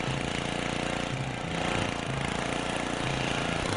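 Rough, droning engine of a lawn mower in the video game Happy Wheels, idling and revving slightly, loud and continuous with no voices.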